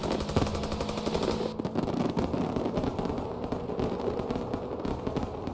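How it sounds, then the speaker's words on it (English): Dense, rapid bursts of gunfire or fireworks crackle nonstop in the video game Mafia: Definitive Edition, loud and chaotic with overlapping pops and rattles throughout. "A lot of fireworks that was going on the whole time."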